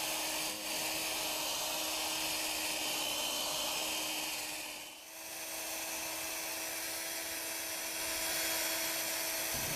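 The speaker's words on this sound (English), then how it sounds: "you're going to want to cover the whole lamp as you're sanding" Steady whirring drone of a 3M headlight lens restoration sanding tool working abrasive across a car headlamp lens, loud and close, with a brief dip midway before the constant hum resumes, no voices.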